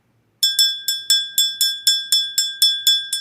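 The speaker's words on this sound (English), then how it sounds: "When I ring that bell, that's calling in my spiritual team to help me with the reading." A small handheld bell is rung by a tarot reader in about eleven rapid, evenly spaced bright strikes, each ringing clear and close before the next, with no talking.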